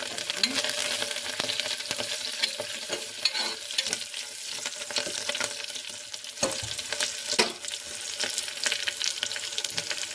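Curry leaves and crushed garlic sizzle in hot oil in a home kitchen pan, a steady close crackle with occasional sharp pops and stirring scrapes throughout, no voices.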